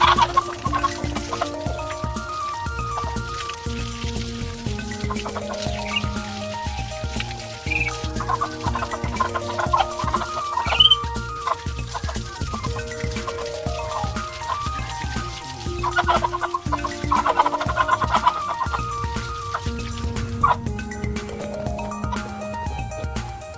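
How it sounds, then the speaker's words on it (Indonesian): Pet hens cluck repeatedly while being bathed outdoors, a busy, near series of short clucks and murmurs rising and falling over damp background noise, with no talking. "jadi ini udah aku mandikan kedua ayam ini"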